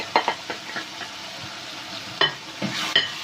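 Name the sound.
stirring spices into fried tomatoes in a karahi pan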